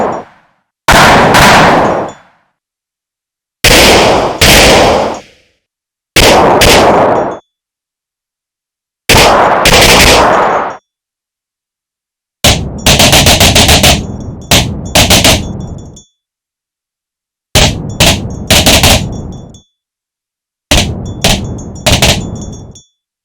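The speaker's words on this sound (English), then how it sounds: "It becomes really easy to generate and create various gun sounds with only one audio source" Procedurally generated gunshots from a Unity action sound pack, heard as seven separate loud bursts: single sharp shots at first, then rapid multi-round volleys, each bang standing alone with silence between.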